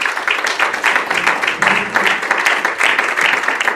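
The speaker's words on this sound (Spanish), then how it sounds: "Un aplauso fuerte para el Señor." A church congregation applauds loudly during a Spanish-language sermon, steady dense clapping from many hands sustained for several seconds with some voices mixed in.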